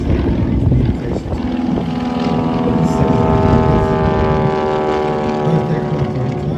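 A Stinson propeller aircraft flying at an air show, a loud, steady engine drone with a rising tonal whine as it passes nearby.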